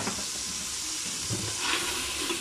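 Onions sautéing in a pan with beef fat for a beef bourguignon, giving a steady, close, loud sizzle and hiss that runs the whole time with slight surges.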